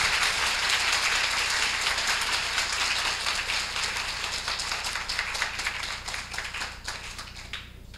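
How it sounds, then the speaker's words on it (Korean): Sustained applause from a university lecture audience greeting a Hyundai Heavy Industries guest speaker, a dense even patter of many hands that holds steady and then thins and fades toward the end. "그럼 오늘 특강자, 큰 박수로 모시겠습니다."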